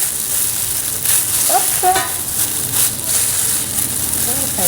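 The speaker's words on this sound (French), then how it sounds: "Je prends mes grands et je vais mélanger ça." Rice mixture for Lao nem being stirred and mashed in a pan, with a steady scraping and sizzling texture throughout and a short spoken word partway through.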